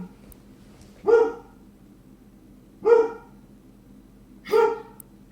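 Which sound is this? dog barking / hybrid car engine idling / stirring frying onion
dog barking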